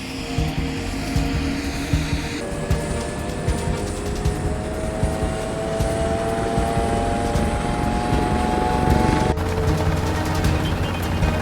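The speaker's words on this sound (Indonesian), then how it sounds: "setiap hari kapal perang ini mengoperasikan 2 helikopter yang terbang untuk misi rekognisi dan pengawasan." A warship's helicopter flies on a surveillance mission, a loud continuous rotor and engine roar with rising whining tones and rhythmic blade thumping, no talk.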